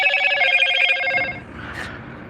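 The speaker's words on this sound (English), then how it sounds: "I just got a notification. That's what that sound was." A phone notification sounds with a bright, ringing electronic tone that repeats for about a second, then cuts off and leaves quiet room noise with a faint brief chirp.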